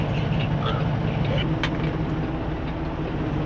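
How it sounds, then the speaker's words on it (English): Steady road traffic rolls past a parked truck outside an apartment building, a continuous loud roadway rumble with no break. "Obviously, you got all this traffic coming this way"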